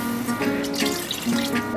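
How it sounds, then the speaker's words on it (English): Water poured into a pot over pork belly for braising in soy sauce, a steady close splashing pour that runs for the whole moment. "Top it up with some water until it covers all the pork."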